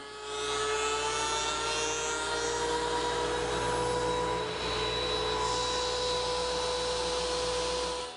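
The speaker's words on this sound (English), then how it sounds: "I'm only going to plane on the inside, not on the outside" A loud, steady power planer whines continuously as it shaves inch-thick white oak, holding one droning pitch throughout with a brief dip midway.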